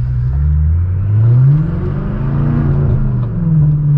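Deep, loud exhaust drone from an 800 hp manual BMW M6 Gran Coupe, heard from inside the car as the engine note climbs, holds and shifts pitch with a steady low rumble.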